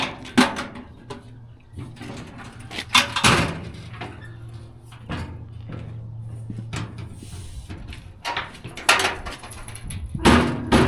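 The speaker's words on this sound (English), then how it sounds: "They got these old school latches." Metal latches on the fold-down side panels of an old farm truck bed clack and clunk in several sharp knocks and bangs, close by, spread unevenly through the stretch with short quiet gaps between.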